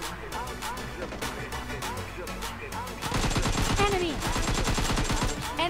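Automatic rifle fire in PUBG Mobile Lite while shooting at bots: rapid sustained bursts with a dense clattering rhythm that grows louder and continuous in the second half, mixed with game music and background sound.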